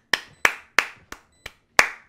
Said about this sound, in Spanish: Aplausos, gente, aplausos, aplausos. Clap, clap, clap.